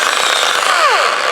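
An old power drill whirs at high speed in a steady, dense motor whine, close and loud, with a brief pitch dip near the end.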